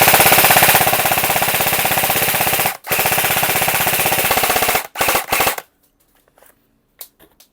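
Airsoft AK-style or Arcturus Saber MK16 rifle firing on full auto, loud rapid buzzing bursts: one long burst, a brief pause, another long burst, then a few short bursts before quiet clicks, with no talk.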